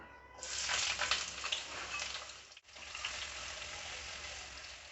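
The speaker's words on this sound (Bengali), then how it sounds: "এবার আমি বেরেস্তা ভাজা তেলে পেঁয়াজ কুচিটা দিয়ে দেবো" Chopped onions fry in oil already used for browning onions, a steady soft sizzle that rises within the first half second, dips briefly near the middle, then carries on at a fairly quiet level with no talking.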